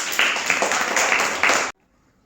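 A group of Grade 1 and 2 children claps together in a classroom, a dense, loud burst of applause lasting under two seconds before cutting off abruptly into near silence.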